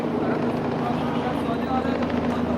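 A helicopter passes low over Istiklal Avenue in Istanbul after an explosion, its steady rotor drone filling the scene under street noise and background voices.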